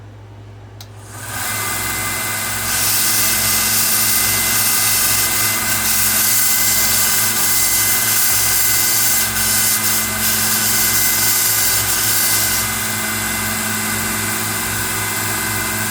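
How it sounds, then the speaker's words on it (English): A 1x30 belt sander with a 120 grit belt starts up and runs loud and steady with a rhythmic whir, sanding a knife blade in long even passes close by. "So I'm going to hit it with some 120 grit on the 1x30 machine and see if we can get that smoothed out just a little bit."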